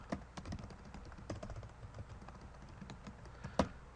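Rapid typing on a computer keyboard in Microsoft Word, quick irregular key clicks with a couple of louder taps, close and fairly quiet, with no talking.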